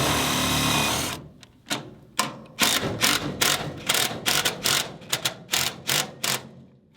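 An impact driver sets a large self-tapping screw into thick metal on a Quonset building, a loud buzzing run followed by a series of short, sharp hammering bursts, close and alone.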